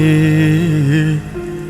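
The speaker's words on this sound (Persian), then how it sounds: "الان بارون میاد" Steady rain patters on a surface throughout, with a loud sustained tonal drone layered over it that eases slightly near the end.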